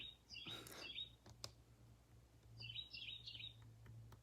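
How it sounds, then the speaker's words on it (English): Songbird chirping outdoors in two short bursts of bright, high tweets, one near the start and another about two seconds later, heard alone against a low steady hum with a few faint clicks. "You hear the bird out there?"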